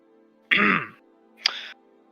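A man imitates someone clearing his throat: two loud, close, gravelly throat clears, the first longer and the second shorter, with silence around them.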